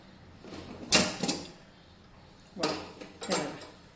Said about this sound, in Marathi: आता आपण कुकर उघडून बघू आपली भाजी कशी झाली.